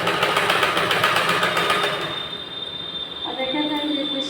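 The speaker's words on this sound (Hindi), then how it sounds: "सिलाई लगाते हुए देखिए इस तरह से हमारी लाइन कंप्लीट हुई।" Sewing machine running steadily while stitching a blouse, a fast rhythmic mechanical chatter that holds for about two seconds and then stops, leaving quieter room noise with a voice speaking.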